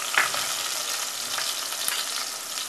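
Chopped tomato sizzles and fries in a pan with ginger, garlic and green chili for a prawn masala, a steady close hiss with a couple of light stirring scrapes.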